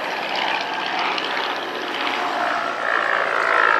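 World War I Allied fighter airplane from 1917–1918 flying at the La Ferté-Alais air show, a sustained propeller-engine drone that swells louder toward the end.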